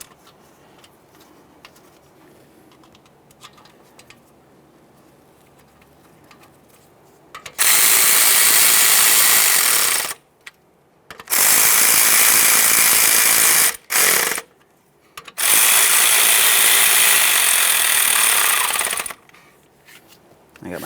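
A ratchet runs down the mounting bolts on a new 4WD locking hub actuator of a 2015-2020 Ford F-150, loud rapid clicking in three sustained bursts separated by short pauses, with quiet handling noise beforehand.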